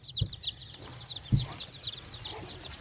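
Many baby chicks in a brooder peep in rapid, steady high chirps close by, with a couple of soft thumps underneath.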